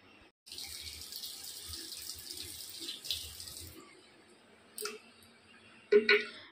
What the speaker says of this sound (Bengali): ডোনা তো মুখ ধুয়ে নিল